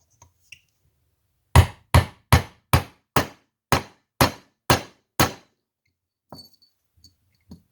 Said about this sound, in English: Got a punch and hammer.